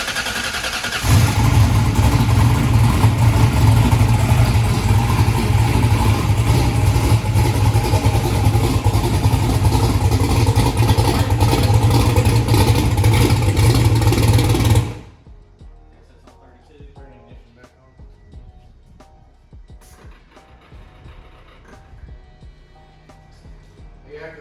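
An engine fitted with a massive 118mm turbo roars loudly and steadily for about fourteen seconds at high revs, then cuts off abruptly, leaving quieter clicks and faint shop noise.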